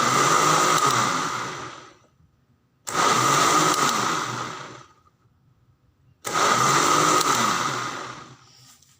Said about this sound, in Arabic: هضربهم كده في الخلاط